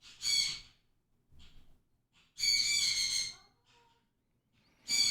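A bird squawks in three loud, harsh bursts, a short one, a longer run, then another starting at the end, with quiet gaps between.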